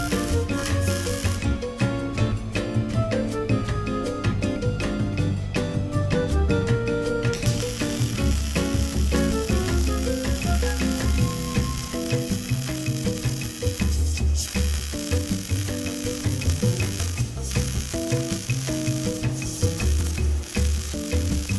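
Continuous crackling, sizzling arc welding on a steel roll cage for a 1980 Jeep CJ7, close and loud, running with steady buzzing texture and brief tonal variations throughout.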